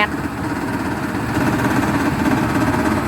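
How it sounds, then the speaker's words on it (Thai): A Zoomlion FH 88 combine harvester's engine runs and is revved in a rice field. The rumbling, vibrating drone is loud and continuous up close. "วันนี้บาสพามาเบิ้งไอ้รถเกี่ยวข้าวซูมไลออน FH 88"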